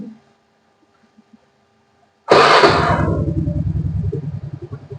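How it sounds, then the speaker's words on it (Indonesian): Motorcycle engine fitted with a Gomexx CDI fires up abruptly after a quiet pause, then settles into a loud, steady idle with a pulsing throb up close. "Yuk, motor langsung nyala."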